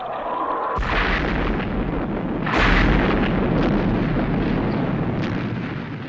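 Missiles are fired in a loud, continuous roaring blast that cuts in sharply, with a second surging burst partway through, heavy and sustained with no voices.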